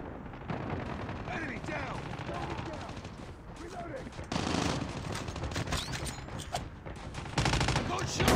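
Gunfire from a Call of Duty-style zombie shooter video game crackles in a dense, continuous barrage, swelling into heavier bursts twice, with faint game voices underneath.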